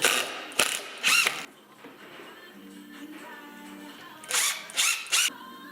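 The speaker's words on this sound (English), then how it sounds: "Simply just screw it in like that till it's about hand tight." Long screws turned by hand through a wooden dowel into a garage tool creeper, giving a few short bursts of ratcheting clicks with quieter creaks and scraping between them, close and clear.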